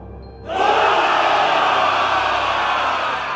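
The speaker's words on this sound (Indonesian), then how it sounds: "Sorakan pelan mulai terdengar" A crowd-cheering sound effect for a gathering of demons: a broad, steady roar of many voices swells in after a brief quiet start and holds evenly to the end, with no speech.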